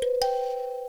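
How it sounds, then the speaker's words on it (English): A kalimba phrase for a beat, two quick plucked notes at the start, then a single bright tone ringing and sustaining as it slowly fades, clear and close with no voices. "Now with the kalimba, I started with this"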